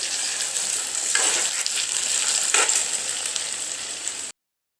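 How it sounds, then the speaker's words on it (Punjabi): Taro (arbi) chunks fry in hot oil with a steady, close sizzle and crackle, swelling briefly twice, then the sound cuts off abruptly. "ਲਓ ਜੀ ਆਪਣੀ ਅਰਬੀ ਫਰਾਈ ਹੋ ਰਹੀ ਹੈ"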